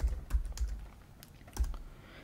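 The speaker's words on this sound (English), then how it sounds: "just type in what I'm typing" Keys clacking on a computer keyboard in short irregular bursts, close and fairly quiet, with pauses between clusters of strokes and no voices.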